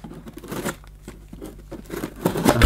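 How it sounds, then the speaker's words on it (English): Scissors cutting through packaging on a boxed Hoover stick vacuum cleaner, with close, irregular snips, tearing and crinkling that grow louder toward the end. "I'll have to use the scissors"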